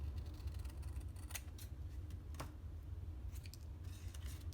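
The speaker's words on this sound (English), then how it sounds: "go ahead and just trim it down." Scissors trim patterned designer series paper on a handmade Halloween pop-up card, giving a few quick close snips over a steady low background hum.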